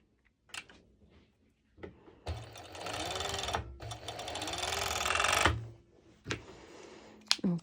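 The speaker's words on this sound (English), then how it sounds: "I'm going to serge it just this bit" A serger overlock machine stitches through four layers of lycra fabric in one sustained burst of rapid, steady whirring, with faint handling clicks before and after.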